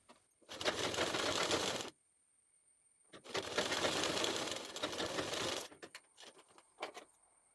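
A sewing machine stitching along the side of a kurti pocket: two long, steady bursts of rapid mechanical whirring and clatter, close and loud, separated by a brief pause, then a few short stop-start jolts at the end.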